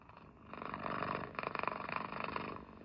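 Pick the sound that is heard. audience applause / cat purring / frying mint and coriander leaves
cat purring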